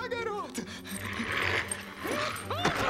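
A dog in a comedy film scene whimpers and yips in short, excited bursts, heard close alongside a person's voice and other scene sounds.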